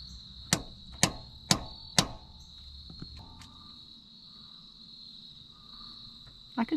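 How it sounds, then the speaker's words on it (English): Four sharp metallic hammer strikes on a center punch against metal while replacing a Chevy 6.0L exhaust manifold, evenly spaced about half a second apart, followed by quieter background with a steady high insect-like whine. "hammering a center hole"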